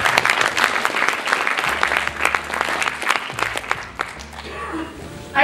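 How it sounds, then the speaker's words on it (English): Steady applause from a hackathon crowd, dense clapping that continues throughout and thins slightly near the end. "since we're applauding everyone, let's just do this again"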